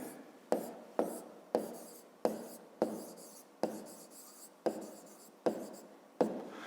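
Pen on paper during a fifth-grade maths exercise, writing out a list by hand: about a dozen crisp, evenly spaced scratching strokes, close and quiet, with no talking.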